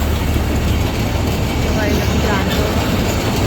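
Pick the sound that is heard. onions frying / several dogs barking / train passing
train passing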